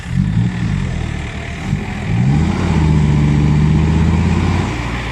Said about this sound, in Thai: รถไถลากครับ